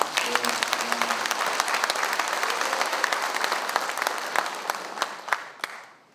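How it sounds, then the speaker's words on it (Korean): A seated audience at Gyeongnam Governor Park Wan-su's town-hall meeting with Tongyeong citizens breaks into steady, sustained applause lasting several seconds, with a voice briefly audible at the start before the clapping tapers off. "박수 한번 쳐주시죠."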